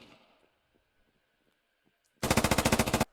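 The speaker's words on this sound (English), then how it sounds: "This saw gunner still up here on the catwalk laying down fire." A SAW light machine gun in the Squad video game fires a single burst of about a dozen rapid, loud shots after a quiet stretch with faint background sounds.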